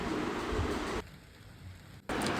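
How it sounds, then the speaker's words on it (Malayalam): Heavy rain falling at night, a steady broadband hiss that drops to a quieter patch for about a second before returning at full strength; no talking. "അപ്പോൾ ഇന്നലെ രാത്രി ഇവിടെ നല്ല മഴയായിരുന്നു കേട്ടോ."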